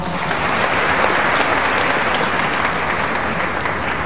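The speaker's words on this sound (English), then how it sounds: "Another round of applause" Loud, dense audience applause fills a large hall at a Workers Day event at the KNUST Great Hall in Ghana, steady and unbroken throughout.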